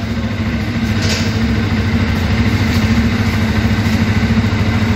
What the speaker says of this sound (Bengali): বাইক স্টার্ট করা হলো।